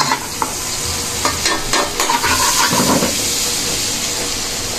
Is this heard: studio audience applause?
no